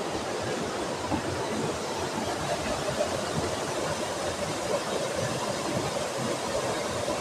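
Chandan Dhara waterfall roars as a dense, even wash of falling water, loud and unbroken from start to finish.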